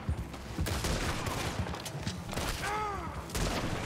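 Gunfire from a gun in the game Red Dead Redemption 2, several sharp shots cracking out in an irregular string over a busy game soundscape, moderately loud, with a brief whistling tone near the end.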